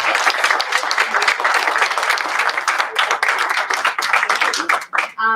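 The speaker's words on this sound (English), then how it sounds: "So big thank you and round of applause to you guys." Dense, sustained applause from an audience at a Yo Poets poetry event in Bendigo, loud and continuous before tapering off near the end.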